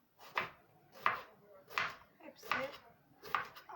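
Eggplant sliced with a knife on a board, five evenly spaced crisp chops, close and clear, with a quiet voice between strokes.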